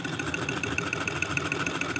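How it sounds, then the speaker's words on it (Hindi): A faulty ceiling fan runs with a loud, rough mechanical drone, a continuous hum with a fast regular pulsing rattle and no speech. "रनिंग हुआ है और पंखा का साउंड सुनिए"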